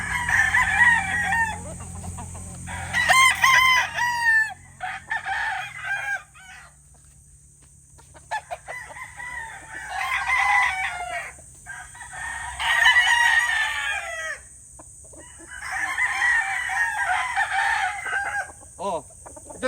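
Several gamefowl roosters, Kelso and Bruce Barnett lines, crow one after another in repeated bursts, loud and close, over a steady background hum, with short pauses between calls.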